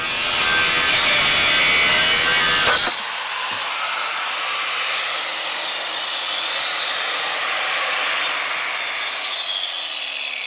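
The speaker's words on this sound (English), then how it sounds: "Let's grind and see." An angle grinder works on steel at a trailer axle while a second axle is being added, a loud harsh burst that drops abruptly after about three seconds into a steadier, lighter whine that runs on to the end.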